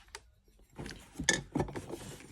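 Secondhand dishes from an English bric-a-brac lot being handled, a few soft clinks and knocks of crockery, close and fairly quiet with no talk.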